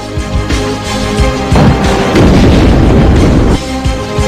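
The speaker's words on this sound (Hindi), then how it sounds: "जमीन से मिसाइल छोड़कर कुछ इस तरह दुश्मन की मिसाइल को आसमान में ही तबाह कर दिया जाता है" A ground-launched interceptor missile destroying an enemy missile in the sky, heard as a loud, deep booming blast with a rumbling roar that swells and sustains for about two seconds before dropping back.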